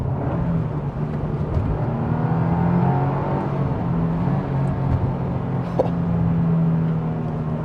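Engine and exhaust of a 2025 Subaru WRX Premium heard from inside while driving, a steady, fairly quiet low drone with subtle pitch shifts as revs change, continuous throughout with no talk.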